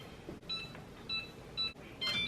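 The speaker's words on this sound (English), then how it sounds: "it's time to preheat my oven and we're gonna preheat it to 425" An oven control panel being set to preheat to 425 degrees chirps with a series of short, thin electronic beeps spaced about half a second apart, fairly quiet over low room noise.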